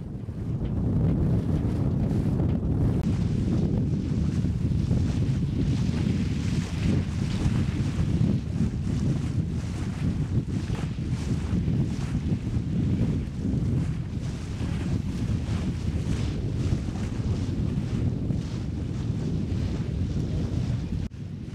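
Strong wind buffets the microphone as a 12 m² sailboat moves across the water, with steady rushing and splashing throughout and no voices.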